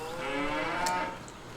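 A cow on a Farming Simulator 25 ranch gives one drawn-out moo, fairly clear and close, with a little faint background noise and no talking.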